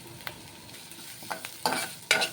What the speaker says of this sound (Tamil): வெங்காயம் கேரட் எல்லாம் முக்கால் பதம் வதங்கிட்டு